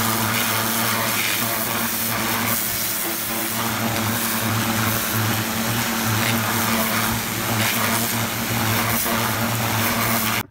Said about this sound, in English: Okay, so literally jet washed it down.